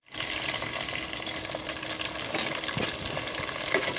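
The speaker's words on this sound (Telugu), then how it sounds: "వీటిని బ్రౌన్ కలర్లో అయితే ఫ్రై చేసేసుకుందాం." Onion pieces fry to brown in a pan, a steady, dense close sizzle with a crackly hiss. A few faint clicks of stirring sound near the end, and no one talks.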